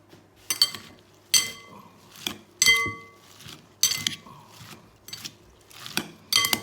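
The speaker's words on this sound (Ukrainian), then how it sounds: "Помішаємо відразу." Salted food gets stirred in a cooking vessel with a series of about eight irregular metallic clinks and scrapes, spaced roughly a second apart, close and fairly loud with quiet gaps between.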